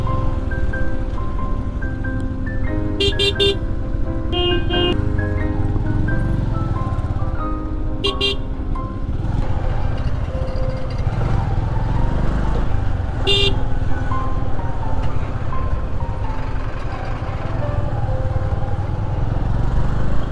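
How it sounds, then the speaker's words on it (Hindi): Heavy traffic jam on a highway road near Pinjore in India, with a constant loud engine and road drone close by and several horns tooting and honking in scattered bursts throughout. "घना जाम भाई घना।"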